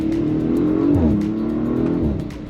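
A 2025 Audi RS5 accelerating at partial throttle, a close, steady engine drone that climbs in pitch, drops as it shifts gear, then climbs again and eases off at the end.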